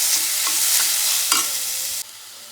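Seasoning for a Kerala-style coconut chutney stirred in hot frying oil, giving a close, steady sizzle with scraping stir strokes that cuts off abruptly near the end.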